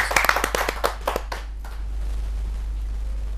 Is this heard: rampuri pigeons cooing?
no